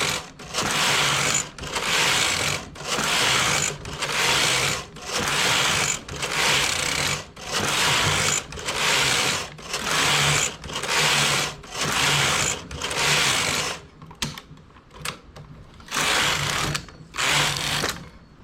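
A domestic knitting machine carriage slides back and forth across the needle bed, making a loud, regular whirring clatter in about a dozen even passes roughly one per second, with a brief irregular stumble near the end.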